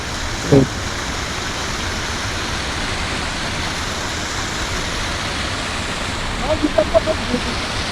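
Steady rushing water from a flowing river fills the scene, a broad continuous roar with a brief thump early and a few faint clicks near the end.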